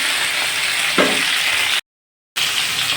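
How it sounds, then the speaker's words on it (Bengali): Drumstick pieces and potato frying in a pan, with a loud, constant sizzle, one brief stirring scrape partway through, and then a short stretch of complete silence before the sizzle returns. "ডাটা আর আলুটা ভালো করে আমি ভেজে নেব ভালো করে ভেজে নিচ্ছি"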